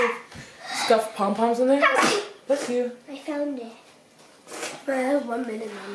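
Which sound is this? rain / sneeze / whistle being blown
sneeze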